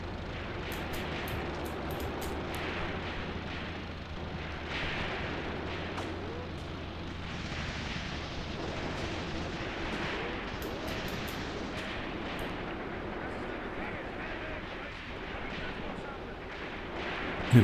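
Gunfire and distant artillery booms in the war game Graviteam Tactics, a dense, rumbling barrage with scattered sharp shots and a steady battle din throughout.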